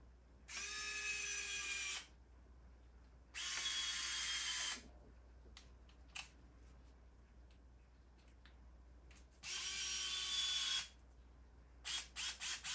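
Cordless power driver tightening parts on a Traxxas TRX4M truck: three loud bursts of motor whine, each about a second and a half long, with short clicks and ticks in between and no talk.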